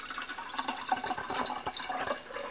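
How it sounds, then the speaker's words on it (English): Freshly juiced celery poured through an extra strainer from a portable off-grid juicer, a soft continuous trickle and splash of liquid with small bubbling drips, close and fairly quiet. "when you pour, we like to use an extra strainer to get all the pulp out"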